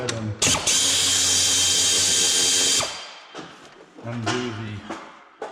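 Power tool undoing bolts on a Duramax water pump shroud, a loud close whine lasting about two and a half seconds, followed by shorter bursts and rattling handling noises.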